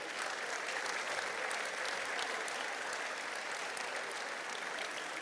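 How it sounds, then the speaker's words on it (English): Sustained applause from an audience at a school graduation ceremony in a hall, a dense even wash of clapping at moderate volume, heard from within the room without a break. "now with thunderous applause, help me welcome the ever ebullient and punctilious Dr."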